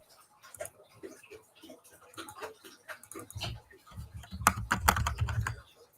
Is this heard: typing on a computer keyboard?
yes